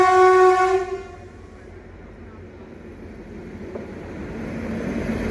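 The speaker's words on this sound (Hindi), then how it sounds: "अच्छी खासी स्पीड में क्रॉस करने आ रही है न्यू दिल्ली से चलकर हावड़ा की ओर जाने वाली न्यू दिल्ली पूर्वा एक्सप्रेस है" The New Delhi–Howrah Purva Express, an express passenger train, rushes past at speed: a horn blares at the start, then a loud, steady rolling roar of wheels and carriages builds and holds nearby.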